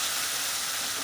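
Spice paste with turmeric and ground spices frying in a little oil for a fish curry, a close, steady hiss and sizzle without pause.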